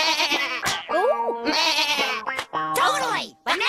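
A cartoon character speaks in a wavering, goat-like bleating voice, a voice imitating a goat across several quick bleats with short gaps, close and clear.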